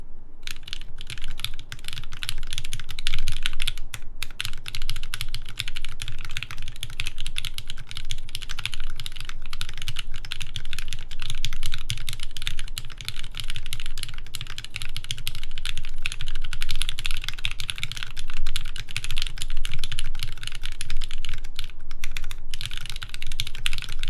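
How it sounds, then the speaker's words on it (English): Continuous fast typing on a mechanical keyboard fitted with spring-swapped, lighter Cherry MX Black switches, the clacks close and crisp, with no speech. "So this one has MX Black switches, but they have been string swapped to be a bit lighter typing wise."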